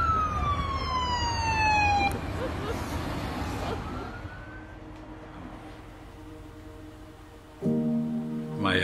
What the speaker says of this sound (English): Here's the ambulance.